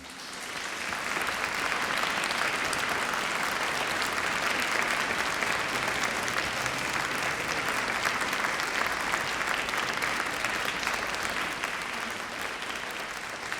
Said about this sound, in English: give a big round of applause to your family and friends.